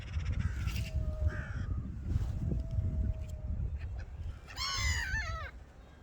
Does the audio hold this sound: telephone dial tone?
no